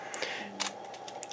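Small mechanical clicks and a brief soft whir as camera controls are worked by hand, setting shutter speed and pressing depth of field preview, close and quiet with a few separate taps.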